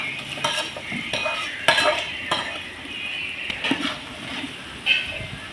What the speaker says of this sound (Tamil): மேக்னேட் பண்ணி வச்சுருக்க சிக்கனை இதுக்குள்ளே போட்டுடலாம்.